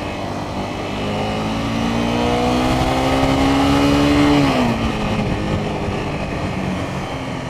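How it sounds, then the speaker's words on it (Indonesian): A 2015 Honda CBR 250R motorcycle exhaust drones steadily while riding, its pitch climbing smoothly for several seconds before dropping as the throttle eases, loud and close with wind noise and no talking. "Oh iya, bunyi knalpotnya nih mengingatkan gue sama bunyi knalpotnya"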